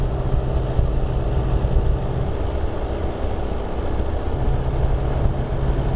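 The Rotax engine of a Sinus 912 motor glider runs steadily at about 4000 RPM during a ground magneto check, a loud, continuous droning roar close by with no talking.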